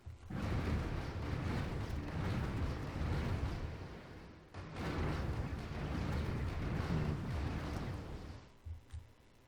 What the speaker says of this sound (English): So they're firing kinetic weapons, autocannons with small lasers. Our guys are firing mass drivers.